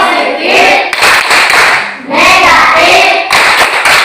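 A classroom group performs the tepuk bilbul clapping chant, with voices chanting in unison over bursts of rhythmic hand claps, loud and close, pausing briefly midway before resuming.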